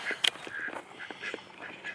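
A duck gives a short, sharp quack near the start, followed by softer scattered calls and a few rustles, all close by and fairly quiet.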